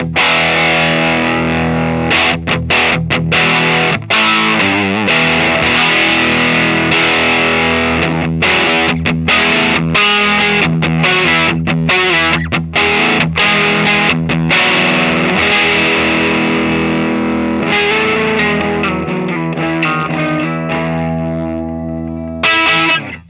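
An electric guitar runs through a Voltic Electronic Devices fuzz pedal during a gain sweep, giving dense, loud, distorted chords with rhythmic strums and brief gaps between hits.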